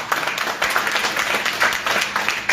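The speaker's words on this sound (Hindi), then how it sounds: "ताली बजाओ यार।" An audience at a crypto seminar claps together, a dense burst of applause that runs steadily throughout at close range.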